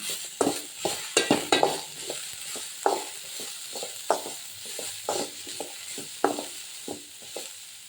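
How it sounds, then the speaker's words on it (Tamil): A spoon stirs bitter gourd kootu with turmeric powder in a pan, giving a string of irregular scraping knocks against the metal over a faint background sizzle. "மஞ்சள் பொடி சேர்த்து நல்லா கிண்டிக்கோங்க"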